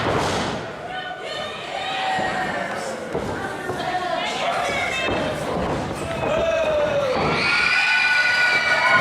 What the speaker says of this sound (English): getting no love from this capacity crowd here in South River